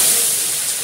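A potato dropped into hot oil tempered with dried red chillies and cumin seeds gives a steady, close, bright hiss that holds loud and even throughout, with no voices.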